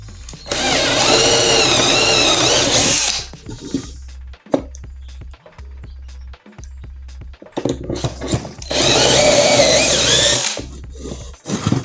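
Power drill boring dowel holes into wooden slats, two sustained whining bursts near the start and end, with quieter handling clicks and taps between them; no talking.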